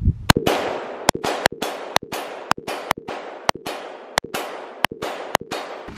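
Gunshots fired at a forged aluminum wheel ring out as about fifteen sharp, loud cracks in an irregular volley, each report trailing off with a brief rumbling echo outdoors.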